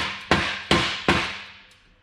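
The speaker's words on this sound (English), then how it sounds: "Sometimes you got to tap it." A hammer taps a cylinder into a Jeep JL locker: three sharp metallic knocks in an even rhythm, close and fairly loud, with short ringing decays and no talk.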